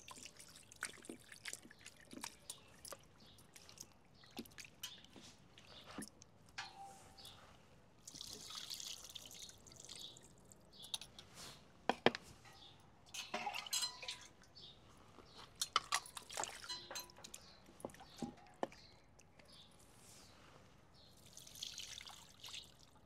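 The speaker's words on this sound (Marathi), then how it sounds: "चला आता मटण आपण 1 ते 2 पाण्याने स्वच्छ धुवून घेऊ" Raw mutton being rinsed clean with water in a kitchen before making pulao, giving soft intermittent trickling, dripping and splashing sounds close by, with occasional sharper clinks and splashes and no talk.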